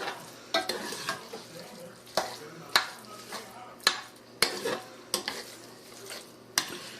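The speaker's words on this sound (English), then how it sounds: "Let's stir it in." Tri-color peppers and onions are stirred in a pan with a spoon, giving repeated sharp scraping clacks against the pan at an irregular rhythm over a steady low sizzle, heard up close.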